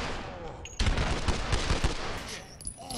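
Rapid bursts of gunfire from the tactical shooter Ready or Not during a house-clearing firefight, several loud, close shots cracking in quick succession with echoing tails, low voices murmuring underneath.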